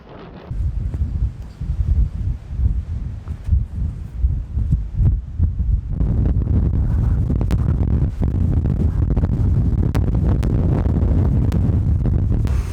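Strong gusts of wind batter the microphone on an exposed hilltop with views over the Peak District and Cheshire Plain. The buffeting is loud, low and rumbling, surging in uneven waves that grow heavier and more constant toward the end.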